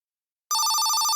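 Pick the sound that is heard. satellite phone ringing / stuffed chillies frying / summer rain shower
satellite phone ringing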